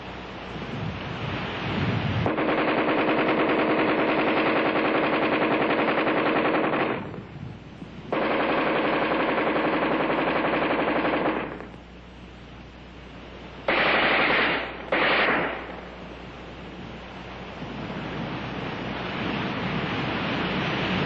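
An Armalite AR-10 rifle fires in long automatic bursts, loud and rapid. The bursts are separated by short pauses, with a couple of brief clipped bursts near the end, then fading rumble.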